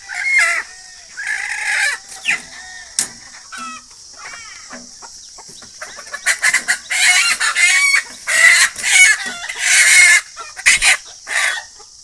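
Siruvidai country chickens, a native Tamil breed, cluck busily and repeatedly close to the microphone, with loud crowing rising in the later half among overlapping calls from several birds.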